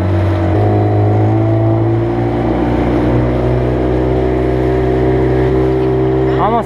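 A dinghy's outboard motor runs near Georgetown, Bahamas, a loud, steady droning hum that holds an even pitch throughout with a slight shift early on.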